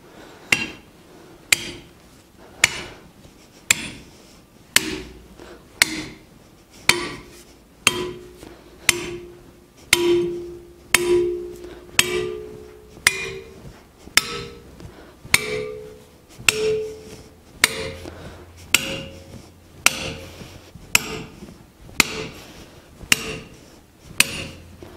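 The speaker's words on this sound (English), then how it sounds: "That's just a half inch hole with a half inch piece of rebar driven in it." Steady, evenly spaced hammer blows drive half-inch rebar into half-inch holes for concrete forms, each strike loud and ringing, the metallic pitch creeping upward as the bar sinks deeper.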